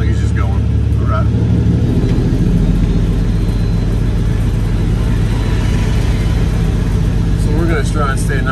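A small garbage truck drives off, its engine a steady, loud, low rumble that fills the scene while a person talks over it.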